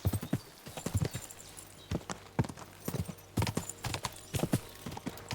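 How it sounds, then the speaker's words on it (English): Horses in the video game Kingdom Come: Deliverance II clip-clop along with clear, hollow hoof strikes in an uneven walking rhythm, close and moderately quiet. "I don't know why these horses are here"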